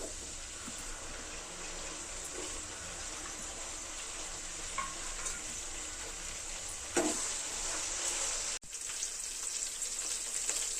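Curry leaves and green chilies fry in a pan of oil with onions for a fish curry, giving a steady, bright sizzle throughout, with a sharp burst of crackling near the end as something is added.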